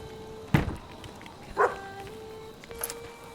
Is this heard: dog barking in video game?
yes